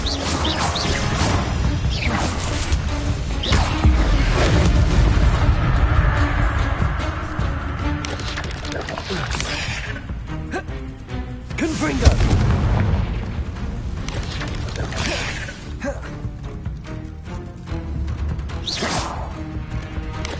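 Fiery Confringo spell blasts in Hogwarts Legacy, a series of loud booming explosions and whooshes layered over game music and combat clatter, recurring every few seconds throughout.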